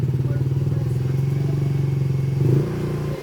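A Yamaha Mio motorcycle engine runs close by with a steady rhythmic putter, rising briefly in a short rev near the end before settling back to idle.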